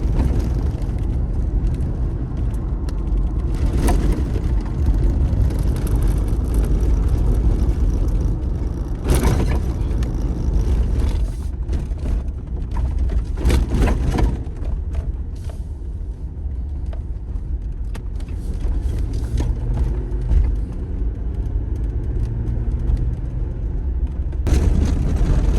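A car drives the unpaved roads of the North Maine Woods, its loud, steady low rumble of engine and tires running throughout, broken by occasional bumps and rattles.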